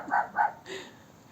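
A neighbour's dog barks twice in quick succession nearby, followed by a softer, trailing yelp.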